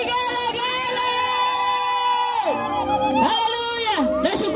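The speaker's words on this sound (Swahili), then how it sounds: "Shangwe na vigelegele." A crowd of women at an evening open-air Christian crusade in Korogocho cheers and ululates, high warbling trills rising and falling over a loud continuous roar, with shrill swoops near the end.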